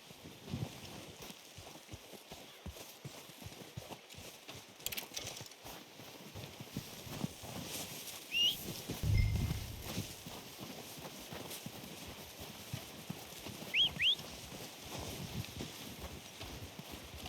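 Hoofbeats of a horse in Red Dead Redemption 2, a steady clip-clop over wind noise with faint game ambience and a couple of brief high chirps, moderately quiet throughout.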